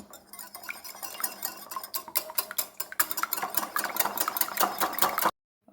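Egg being beaten in a bowl for chicken fry batter, a quick run of rapid clinking strokes of a utensil against the bowl, close and steady, with no talk, stopping abruptly at the end.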